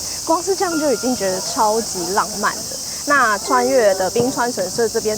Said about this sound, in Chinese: 时间接近傍晚了，所以就可以听到虫鸣跟风铃声